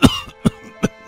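An old man coughs loudly three times in even succession, each a sharp, close burst with short silences between.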